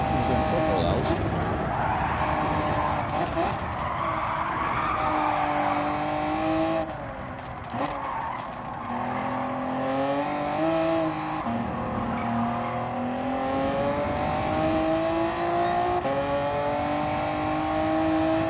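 A race car in Gran Turismo 7 running a time trial lap: a high engine note rising and falling through gear changes, with a brief tire scrub midway. Voices talk over the engine throughout.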